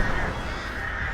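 Crows caw in a video game match, a short harsh call over a busy wash of game sound, fairly close and brief.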